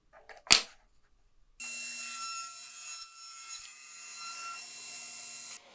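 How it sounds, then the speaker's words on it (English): A table saw blade cuts through wood guided by a miter gauge, a sharp knock first, then a steady loud whining cut of several seconds that ends abruptly, with no talking. "I'll make the first cut on this side of the blade, then move my miter gauge over to the opposite side and make the second cut"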